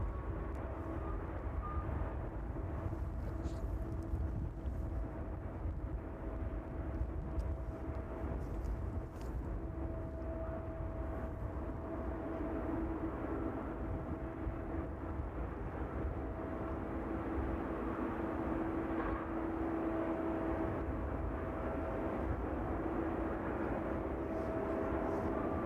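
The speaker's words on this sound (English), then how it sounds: "the 777 air in front of us there, just arriving in from Cincinnati" Boeing 777 freighter arriving at East Midlands Airport in the evening, a steady low jet-engine rumble with a sustained whine, moderately distant and continuous throughout, no talk over it.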